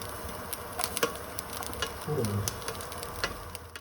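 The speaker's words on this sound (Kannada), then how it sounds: "ನೆಕ್ಸ್ಟ್ ಆನಿಯನ್ ಹಾಕೋತಾ ಇದ್ದೀನಿ" Onions dropped into a hot pan for Nati-style chicken curry with coconut, a quiet close sizzle with light clicks of stirring and a short burst of crackling as they hit the oil.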